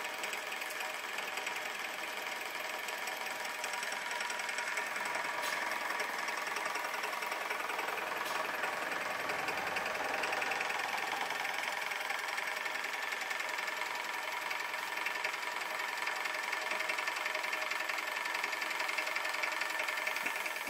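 An Australian-made Huxtable hot air Stirling engine runs steadily nearby, a continuous fast mechanical whir and light knocking that holds an even level throughout with no talking.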